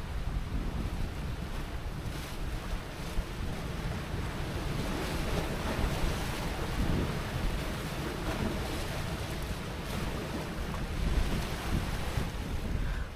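Flood water released from the Tri An dam spillway in Dong Nai thunders as a loud, continuous roar of rushing water, steady throughout with wind buffeting the microphone.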